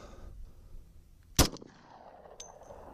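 A single loud gunshot from a 10mm pistol with a 6-inch factory barrel firing a 200-grain HST round, a sharp close crack standing out against a quiet outdoor background with a faint ring after.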